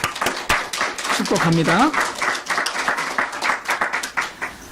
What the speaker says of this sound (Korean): 미리 박수 한번 쳐드릴까요?